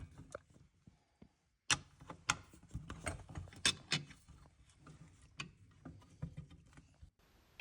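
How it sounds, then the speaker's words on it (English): Two Allen key screws are undone on a fan assembly, heard as close, sparse metallic clicks and ratcheting taps in uneven bursts separated by short quiet gaps. "Then you're going to use an Allen key to undo the 2 Allen key screws."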